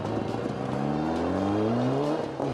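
A rally car on the final stage of the Galloway Hills Rally at Glen Gap roars past close by, its engine note climbing steadily through a gear under hard acceleration before cutting off abruptly.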